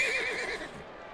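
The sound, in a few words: horse whinnying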